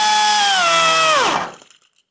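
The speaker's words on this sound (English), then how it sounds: "So I'm going to take a rotary file and open this up." Rotary file in a power tool enlarging a drilled hole in a car hood for hood pins, a high whining grind that holds steady, then drops in pitch and winds down to silence.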